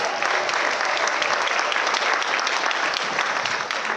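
A packed audience applauds the executive board at a student Pilipino musical show, dense continuous clapping that stays loud and even throughout with no talk over it.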